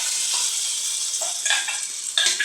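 Curry leaves dropped into hot oil for a tempering with chana dal, crackling and sizzling loudly and steadily close up, with sharper pops and spits flaring now and then.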